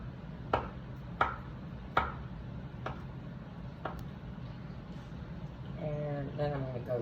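A knife slices through boiled eggs on a cutting board for a salad, giving five sharp, evenly spaced chops. A voice starts talking near the end.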